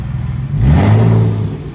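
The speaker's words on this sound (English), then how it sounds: "Let's see what the Boxster sounds like without the exhaust back box." A Porsche Boxster engine with its exhaust back box removed revs up once from idle, a loud, raw, rising blare that swells and then settles back, heard up close without talk.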